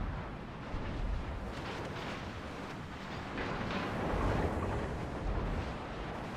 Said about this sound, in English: It's a really beautiful salvo with Sap on that Shiryatsu